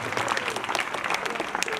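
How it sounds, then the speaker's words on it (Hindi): An audience at a government higher secondary school event breaks into dense, continuous applause, many hands clapping together in a loud, steady wash of sound. "जोरदार तालियां बजार और स्वागत"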